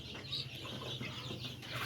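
Seven-day-old Sonali chicks peep and cluck together in a steady, dense chatter, close by and without pause, with no voices over them.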